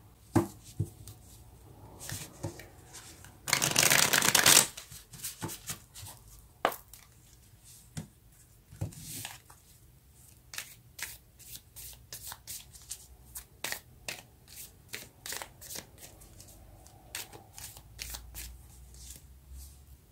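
A deck of tarot cards being shuffled during a card reading: one loud, dense burst of riffling near the start, then scattered soft taps and flicks of cards being handled and laid down in a quiet room.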